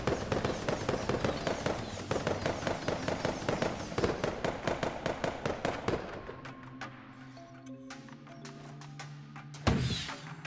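Rapid strings of small firework pops crackle in quick succession from a big firework show in a multiplayer VR game, then thin out before one louder boom near the end.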